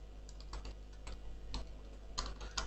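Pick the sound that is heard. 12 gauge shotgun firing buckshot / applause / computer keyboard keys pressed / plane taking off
computer keyboard keys pressed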